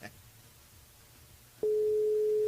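A steady, continuous telephone line tone starts abruptly partway through and holds loud to the end, following a quiet stretch of faint background noise, as a caller is rung during a live radio show.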